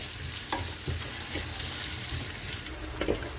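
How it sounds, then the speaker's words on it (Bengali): Shrimp fry in a pan on a home stove, giving a steady, close sizzle with a few faint scrapes and stirring sounds mixed in, and no voices. "এখানে চিংড়ি মাছ বসাইলাম চিংড়ি মাছ বাজি করে নিব"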